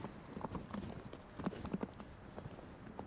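Horse hooves during a show jumping lesson, a quiet rhythmic clip-clop of a canter on soft footing, steady and moderately distant with no voices.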